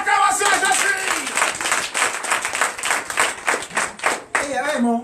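Congregation members at a Comè, Benin church testimony service clap together in a lively, rhythmic burst, close and loud, with voices calling out and a speaker's voice rising over the clapping toward the end.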